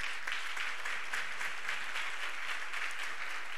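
Sustained audience applause from a crowd at a gathering, with dense, even clapping throughout and no talk over it.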